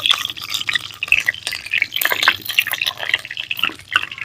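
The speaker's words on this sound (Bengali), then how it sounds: "এর মধ্যে দিয়ে দেবো গোটা জিরে," Whole cumin seeds are dropped into hot mustard oil in a home kitchen pan, setting off a steady, close crackle and spitting sizzle that runs for a few seconds with no voices.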